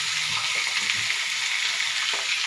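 Chicken and potatoes sizzling loudly in a pan of browned frying onions, a steady, dense hiss of hot oil with faint stirring knocks underneath.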